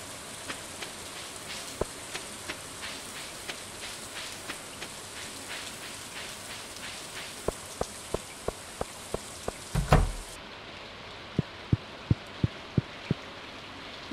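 Rain falls steadily in the Stardew Valley farming game as a soft, constant hiss, dotted with sharp clicking taps and a brief thud near the end, with no talking.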